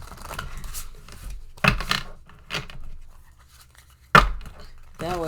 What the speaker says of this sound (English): I'm going to casino shuffle again.